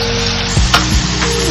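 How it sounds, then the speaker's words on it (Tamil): Ingredients for momos sauté in a pan with salt and turmeric, a loud continuous sizzle close by with a couple of brief stirring scrapes. "இந்த அளவுக்கு நல்லா வதக்கி எடுத்துக்கலாம்."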